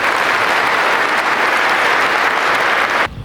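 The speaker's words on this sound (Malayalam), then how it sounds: "അച്ഛൻ നമുക്ക് നല്ലൊരു കയ്യടി കൊടുക്കാം." Loud, sustained applause from a church congregation at a feast celebration honouring the parish priest, steady clapping filling the space for about three seconds before cutting off abruptly.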